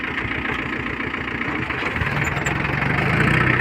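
A tractor engine runs steadily close by, a low rumbling idle with a knocking pulse that grows slightly louder toward the end.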